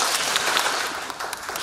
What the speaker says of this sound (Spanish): espero que con la siguiente canción aplaudéis tan bien como lo acabáis de hacer